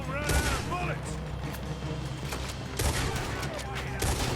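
Gunfire in Red Dead Redemption 2 comes as loud, rapid bursts of shots with booming reports, several volleys over a few seconds under game sound.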